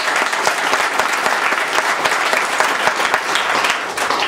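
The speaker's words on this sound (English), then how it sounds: "big round of applause for those guys." Sustained applause from an audience at an unconference introduction session for local government, a dense steady wash of many hands clapping at even loudness throughout.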